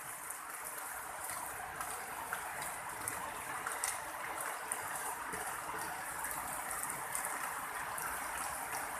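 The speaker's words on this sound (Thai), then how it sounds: "ฝนกำลังตกหนักครับ" Steady, dense rain pouring down continuously, a broad hiss with no pauses and no voices.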